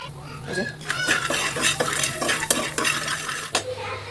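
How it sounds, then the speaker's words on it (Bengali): Corn kernels frying in a pan are scraped and stirred with a metal utensil, giving close, irregular scrapes and clinks over a low sizzle, with no talking. "এভাবে করে আমি সবগুলো ভেজে নিতেছি"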